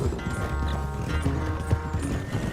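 A horse galloping in the video game Red Dead Redemption 2, with a steady rapid clip-clop of hooves under a busy game-audio background, fairly close and continuous, with no talking.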